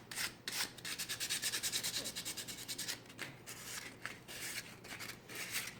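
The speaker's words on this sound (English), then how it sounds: "I just want to rough up this paint a little bit with the sandpaper." Sandpaper roughing up a painted surface on a Dollar Tree coastal decor piece, a close, continuous rhythmic scratching and rubbing with quick back-and-forth strokes, heard alone.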